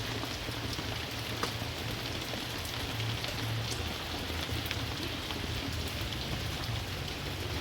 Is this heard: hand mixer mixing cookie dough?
no